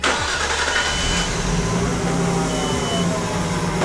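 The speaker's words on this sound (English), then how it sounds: "So now I have the car ready to start, so let's just turn it on real quick" A Nissan Skyline R32 GTS-T engine cranks briefly and catches, then settles into a steady, loud idle close by.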